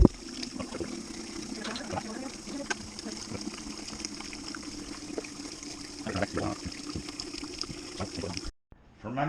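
Wort for a home-brewed vanilla coconut brown ale gushes steadily into a fermenter in a close, continuous splashing rush that stops abruptly near the end.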